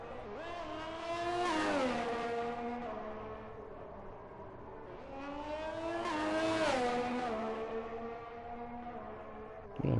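A Ferrari race car engine on an out lap in a racing video game, at the Canada round of a league season: loud revving that climbs and falls in two long, sweeping surges, like passes, with faint talk possible underneath.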